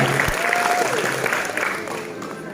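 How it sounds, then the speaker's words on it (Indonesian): An audience claps together at a school extracurricular inauguration talk show, a dense burst of applause that slowly fades, with faint voices mixed in. "Oke, tepuk tangan dulu dan berani."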